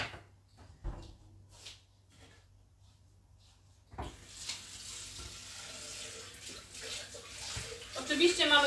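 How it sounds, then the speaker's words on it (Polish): Running tap water rinsing a Thermomix mixing bowl in a kitchen sink, a steady splashing wash that starts after a few quiet seconds of faint clatter, with a voice speaking nearby. "Dalej mamy umyć i osuszyć naczynie miksujące."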